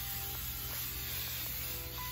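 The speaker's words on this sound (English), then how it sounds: "So I'm gonna just spray this all over my head this time to make sure nothing goes anywhere, no flyaways." Hairspray from an aerosol can misted steadily all over a head of hair while styling a sleek low bun, a continuous close hiss with no break.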